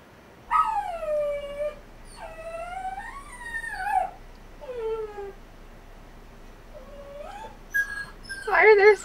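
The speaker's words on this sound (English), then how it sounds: "Why are there sad dog sounds?" A dog whimpers and whines sadly in long, rising and falling cries, several drawn-out wails in a row, close and fairly loud, ending in a brief noisy burst.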